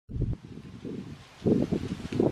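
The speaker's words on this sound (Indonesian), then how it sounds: "Anginnya kencang kali." Strong wind gusting across a rice field beside an outdoor cooking spot, low rumbling buffeting against the microphone that swells in bursts, louder toward the end.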